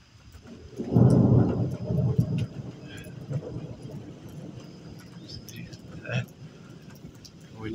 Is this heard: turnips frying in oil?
no